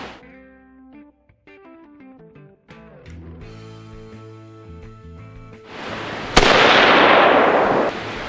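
An AR-15 rifle fitted with a CMMG SV muzzle brake fires one sharp, loud shot near the end, after a stretch of melodic tones and a swelling broadband rush.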